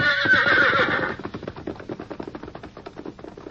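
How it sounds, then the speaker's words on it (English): A horse whinnies loudly for about a second in an old-time radio drama sound effect, then a brisk run of clip-clopping hooves follows and continues to the end. "Go on, Red Horse. Run yourself back to the hills."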